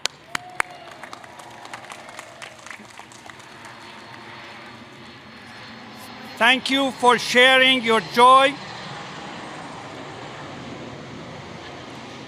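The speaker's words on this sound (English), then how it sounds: "Can't compete with the airplane." Outdoors at a college engineering commencement ceremony, an airplane passes overhead as a broad, steady roar beneath amplified speech that continues through most of the stretch.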